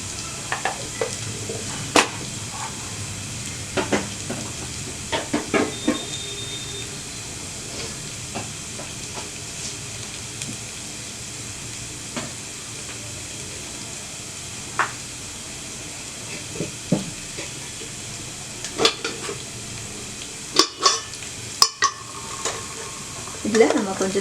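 Cinnamon and cloves frying in a pan give a steady, faint sizzle, with occasional soft clicks and taps of a utensil scattered throughout and a few sharper knocks near the end.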